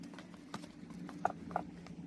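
Wild horses in a forest, with hooves clip-clopping in a few scattered, uneven steps against a low, steady background hum. The hoofbeats are moderately close and fairly soft.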